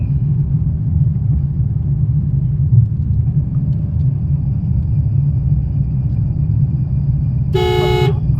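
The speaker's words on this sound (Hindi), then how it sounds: "अब ये देखो तभी तो हॉर्न दे रहे हैं।" A car horn honks near the end, a sustained bright toot over a steady road rumble of traffic heard from inside a car during beginner driving on a road.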